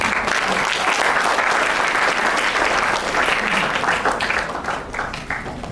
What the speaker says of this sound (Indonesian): tepuk tangan buat pemain musik